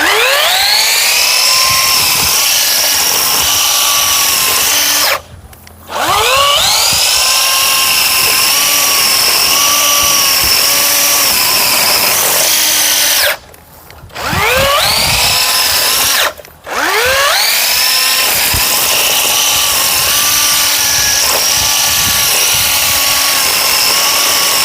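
A battery-powered brush cutter rated at 6500 RPM whines loudly at high speed in a farm demonstration, its motor cutting out briefly three times and spinning straight back up each time.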